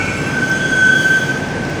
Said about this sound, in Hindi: ये मेट्रो जो है वो आ गई है और हम इस पे जो है वो ये सवार होने लगे हैं।